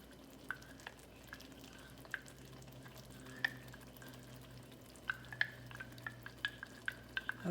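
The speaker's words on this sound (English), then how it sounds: "We're going to stir our other ingredients" A spoon stirs crawfish pie ingredients with cornstarch dissolved in water in a bowl, giving a series of light, irregular clinks and taps against the bowl over a quiet background hum. No one speaks.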